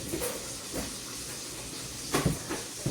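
Butter sizzles in a pan before onions are added for a curry, a steady hiss broken by a few sharp clunks and knocks from nearby kitchen handling.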